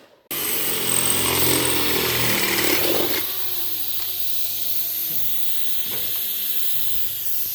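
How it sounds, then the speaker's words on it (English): Angle grinder grinding drilling swarf off the steel of a 1953 VW smooth tailgate under restoration, a loud harsh whine that cuts out after about three seconds, leaving a quieter hiss and a few faint clanks. "just grinding off the little bits of swarf from all the drilling of all the holes"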